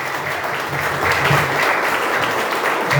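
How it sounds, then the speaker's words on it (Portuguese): A church congregation at a family worship service applauds, a dense, loud, steady clapping that swells slightly and continues throughout with no break. "Aplauda bem forte o nome do Senhor."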